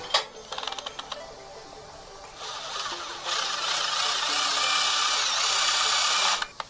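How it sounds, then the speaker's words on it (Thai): A power drill bores into a house wall to run a new electrical outlet, with a few short bursts, then a sustained loud whine that rises partway through and stops abruptly near the end. "ผมจะเจาะเอาจากตรงนี้ เจาะเทียบจากของเดิมไปนะครับข้าง ๆกัน"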